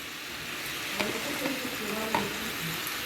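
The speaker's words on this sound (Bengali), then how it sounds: "দিয়ে ভালো করে কষিয়ে নেব তরকারিটা" Potato curry with salt, a little turmeric, cumin powder and ginger being stir-fried in a pan, giving a soft steady sizzle with scraping stirring strokes and a few light clacks of the spoon.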